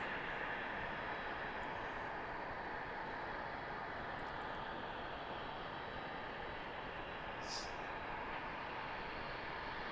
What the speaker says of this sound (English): I think that was a FedEx flight going from Allentown to Memphis.